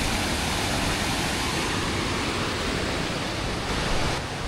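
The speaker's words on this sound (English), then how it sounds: "All right, farewell, beautiful waterfall." Rock Run Falls waterfall pours in a steady, dense rush of falling water, loud and unbroken throughout with no voices.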